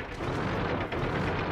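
A booming artillery shot from a tank in the online game World of Tanks, a single dense, loud blast with a rumbling tail filling the short moment.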